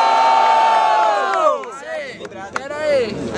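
A crowd at a Brazilian student rap battle cheers and shouts loudly at close range, a dense roar of voices and whoops that fades after a few seconds.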